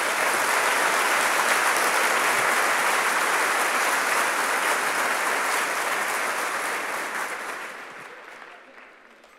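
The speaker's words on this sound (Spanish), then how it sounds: "Den un aplauso fuerte al Señor." Loud, sustained applause from a church congregation during a sermon fills the space evenly for several seconds, then gradually fades away toward the end.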